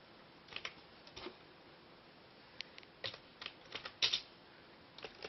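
Someone types on a computer keyboard with one hand while holding a phone, giving scattered, uneven clicks in small bursts, close and fairly quiet, with no talking.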